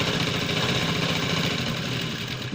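A sewing machine runs a straight seam on fabric while making a canvas neck design, giving a continuous fast mechanical whir with steady rapid stitching pulses and no talking.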